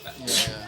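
A single short, sharp sneeze bursts out in the middle, close and fairly loud.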